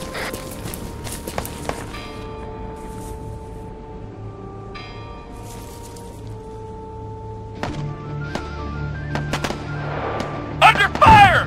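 Scattered gunfire in ArmA 3, with sharp cracks near the start and a louder burst of close shots at the end, over a low background hum and a faint voice.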